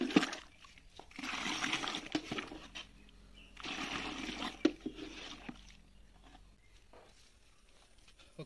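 Fertilizer solution for banana plants is stirred with water in a container, producing two bursts of sloshing and splashing separated by a pause, close and moderately quiet, then fading near the end.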